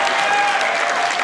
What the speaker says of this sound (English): Let's have fun and clap right here.